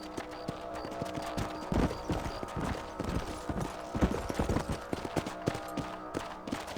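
Horse hooves clip-clop at a steady walking rhythm, close and prominent, in the Red Dead Redemption video game, with a low ambient bed and occasional sharper thuds beneath.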